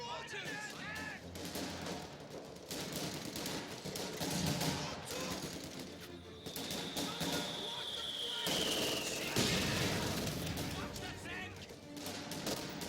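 Mortar and machine gun fire in a WWII strategy video game, with sharp gunshot bursts and booming impacts layered over ongoing battle noise, plus a rising whistle partway through, all at moderate level throughout.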